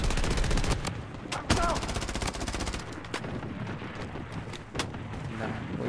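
Bursts of automatic gunfire in the shooter Blood Strike, loud rapid volleys giving way to scattered single shots, with in-game voice callouts over the firing.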